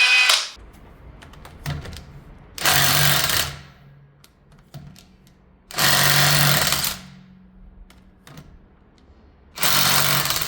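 Parkside 20V Performance cordless impact wrench, model PPDSSA 20 Li A1, firing three loud, sustained hammering bursts of about one to one and a half seconds each, separated by quieter gaps with faint handling clicks.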